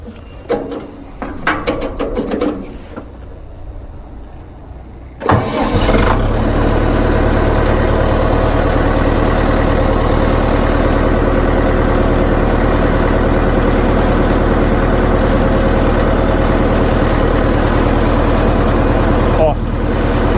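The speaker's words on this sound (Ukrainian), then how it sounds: "Зараз запустимо двигун і побачите" A few clattering mechanical noises, then a DMTZ 544X tractor engine cranks and catches at about five seconds and settles into a loud, steady idle.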